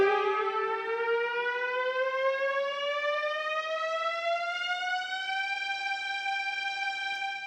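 A Casio CT-X5000 keyboard on its strings voice glides slowly upward in pitch with a long portamento, one smooth sustained note bending gradually higher, loud and clear with no talking.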